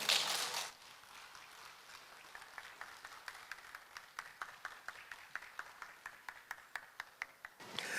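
Applause from a small audience at a public broadcast event in Daehangno, greeting a Korean diaspora guitarist and writer. The crowd noise starts loud, falls to a soft murmur, then comes back as a steady run of distinct, fairly sparse claps that swell again at the end.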